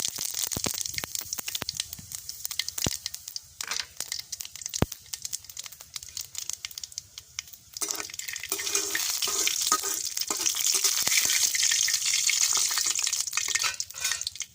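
Dried chili and raw cumin sizzle and crackle steadily in hot oil, with stirring scrapes, a few sharp ticks, and the frying growing fuller and louder partway through, no voices.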